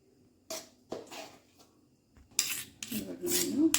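A spoon scrapes soft banana halwa out of a pan onto a plate, making short rasping scrapes with pauses between them and a longer, denser run of scraping near the end.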